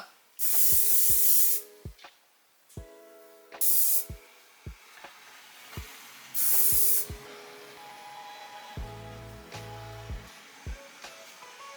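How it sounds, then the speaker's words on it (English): Three loud, sharp hissing sprays of an aerosol can of light hair styling spray, each lasting about a second, spaced apart, with clicks and tapping in between. "I just love a light styling spray"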